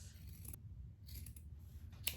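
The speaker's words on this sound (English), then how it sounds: "we're just going with our fabric scissors and cutting all the way across" Fabric scissors snip straight across sweatpants fabric, cutting the legs into capris: a few short, crisp cutting bursts spaced over about two seconds, close and fairly quiet, with no talking.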